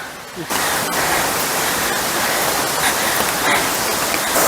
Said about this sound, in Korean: 계곡 물소리가 엄청 시원합니다